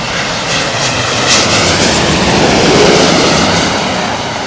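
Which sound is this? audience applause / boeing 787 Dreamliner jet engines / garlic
boeing 787 Dreamliner jet engines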